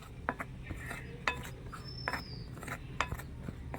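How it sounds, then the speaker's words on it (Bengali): Salt and carom seeds being mixed into flour for goja dough, heard as quiet rubbing and stirring with a few light clinks of a utensil against a bowl, close by and without speech. "লবণ আর জোয়ানটা দিয়ে একটু ভালো করে মিশিয়ে নিতে হবে"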